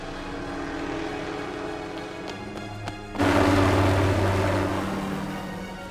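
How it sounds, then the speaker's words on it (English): Army helicopter flying in a 2005 PS2 game cutscene: a steady rotor and engine drone that swells suddenly louder partway through and holds, with no talking. "That's an army chopper."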